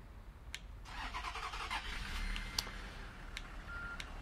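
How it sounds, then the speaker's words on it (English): A minibus engine starts in Fernbus Coach Simulator, on a coastal shuttle route in northeast Germany: the starter cranks, the engine catches and settles into a steady idle, moderately quiet, with a few clicks. "We'll get the engine started."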